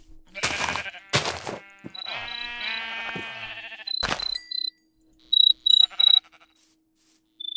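Sheep in a video game bleat in several short, close bursts, mixed with bright electronic dings and tones from the game.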